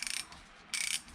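A cleaned-up Snap-on S-71 ratchet clicks in two quick, quiet bursts of rapid pawl ticks separated by a short pause, close up and alone.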